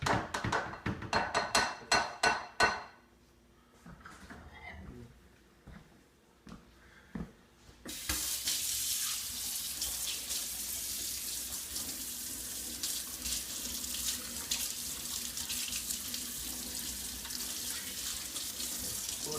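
Cold water gushes from a kitchen tap into a sink, a steady close hiss that starts abruptly after some clattering of dishes and keeps running to the end.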